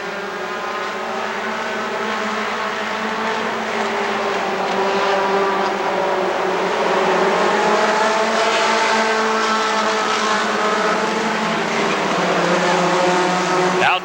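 Stock cars race around the Rockford Speedway oval, a loud continuous roar of several engines sweeping past with shifting pitch, building slightly louder toward the end, with faint announcing underneath.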